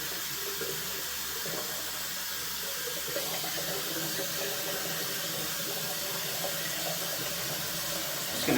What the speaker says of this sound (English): I'm just going to go ahead and rinse everything off at this point